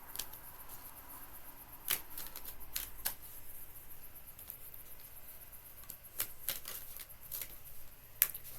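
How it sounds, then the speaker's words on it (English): Tarot cards are pulled from a deck and handled in a quiet room, giving faint papery flicks, taps and soft snaps scattered irregularly over low background hiss. "I'm going to pull some more cards here."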